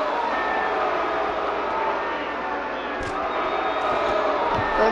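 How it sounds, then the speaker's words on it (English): Wrestling crowd at the Pepsi Center roaring in a dense, steady wash of cheering and noise that fills the whole arena, loud and continuous throughout. "And this crowd! At the Pepsi Center! They're making their voices heard."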